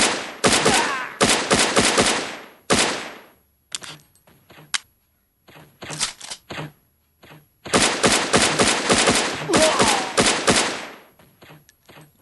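Rapid automatic gunfire in the mobile shooter Cover Strike comes in loud, dense bursts separated by short pauses and scattered single shots, close and dry.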